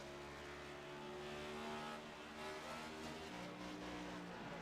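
A Next Gen race car in the iRacing sim at Kentucky revs hard and steadily as it rattles over bumps, its loud engine drone running continuously with pitch shifts near the end.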